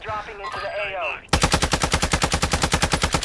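A voice talks briefly over faint game sounds, then loud rapid automatic gunfire in Call of Duty Warzone bursts in, a steady, evenly spaced string of close shots running to the end.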